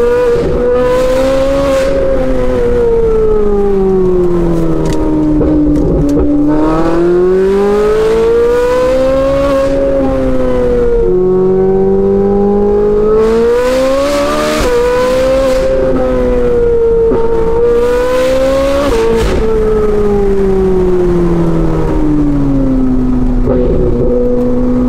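A Ferrari driven with the top down roars very loudly and close, its engine pitch rising and falling through repeated surges of acceleration and gear changes, with no voices.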